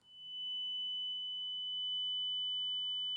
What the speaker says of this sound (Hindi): ये जो आवाज आपको सुनाई दे रही है ये फोन कटने के बाद की आवाज है